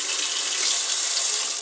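Cold well water pours from a tap in a steady, close hiss for a short stretch, with no voices.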